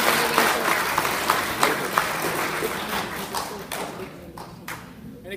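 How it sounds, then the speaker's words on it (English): An audience applauds for a speaker at an ELITE Vancouver talk, a mix of scattered claps that tapers off and thins out over a few seconds. "Another round of applause"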